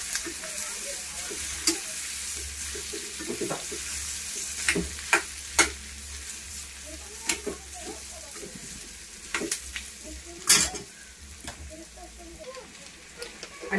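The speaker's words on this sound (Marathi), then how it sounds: "थोडी अशी फ्राय झाली की त्यात बटाटे टाकून घेऊया।" Potatoes frying in an Indian home kitchen pan, a continuous oily sizzle punctuated by repeated sharp scrapes and clinks of a spoon stirring against the metal, heard close up.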